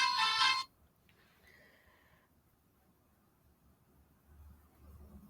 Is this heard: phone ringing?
yes